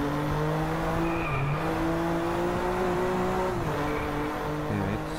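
A BMW M4 in the Driveclub racing game slides sideways through a drift, the engine holding a loud, steady note as the tires squeal and skid continuously, with a brief change in pitch near the end.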